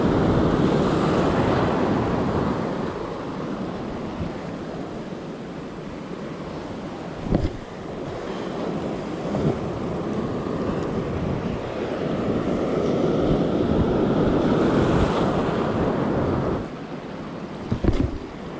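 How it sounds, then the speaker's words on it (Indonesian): Ocean waves wash against the shore in a steady roar with heavy wind buffeting the microphone, the surge rising and falling over time during a fishing outing with a long surf rod. "ombaknya ini mantap banget ya"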